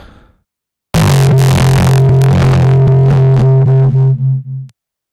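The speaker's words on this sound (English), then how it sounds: "like the bass stuff, like just distorted sine waves" A loud, buzzy distorted sine-wave bass synth tone sustains for several seconds with gritty harmonics, then cuts off abruptly with a faint click.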